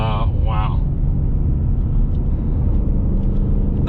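Ford Mustang Mach 1 with a V8 and 6-speed manual drones with a deep, steady low rumble heard from inside the cabin, with a short burst of talk at the start.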